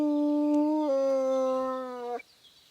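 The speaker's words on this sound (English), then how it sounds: "That is a muscly fucking dog." A muscular dog in Kingdom Come Deliverance II gives one loud, close, sustained howl that dips slightly in pitch partway through and cuts off abruptly after about two seconds, leaving near silence.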